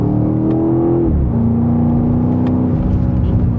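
A 2026 BMW X5M Competition in Sport Plus mode accelerates with a loud, close engine drone that climbs in pitch, drops at a gear change, then holds steady and rises again. No one speaks over it.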